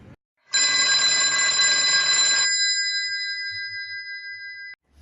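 A telephone bell rings in a radio drama, one long loud electronic-sounding ring lasting about two seconds, followed by a sustained fading tone that cuts off sharply, alone with no voices.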